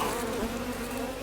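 Honeybees buzzing loudly and close after being shaken off hive frames during a hive inspection: a dense, steady swarm hum with a wavering pitch, no voices.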